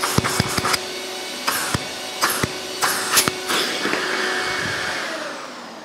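A dust extractor vacuum hums steadily at an MFT workshop table, with several sharp clicks and knocks at the start before the motor drone carries on alone, close and moderately loud.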